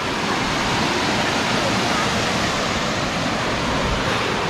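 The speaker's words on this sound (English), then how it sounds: "Here you can see the span of the waterfall." A waterfall in a hidden forest trekking spot roars as a loud, steady broadband rush of falling water that fills the whole stretch without pause.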